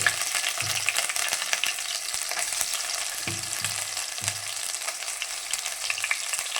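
Ginger garlic paste and masala sizzle steadily in hot oil for a chicken gravy, with a continuous crackling fry broken by a few soft scraping stirs of a spoon in the pan.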